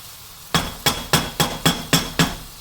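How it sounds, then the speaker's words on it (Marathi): A metal spoon stirs spicy prawn pickle made with small prawns, knocking against the container in seven sharp, evenly spaced clinks, close and clear with no talking. "चमच्याने छान ढवळता येईल."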